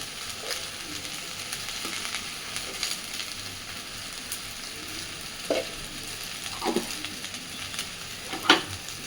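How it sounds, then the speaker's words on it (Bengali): Taro leaves with salt and turmeric fry in a pan with a faint, steady sizzle, broken now and then by soft scrapes and a few sharper clinks of stirring, close by and with no voices. "খুব ভালোভাবে এবার সব কিছুকে ভেজে নেব"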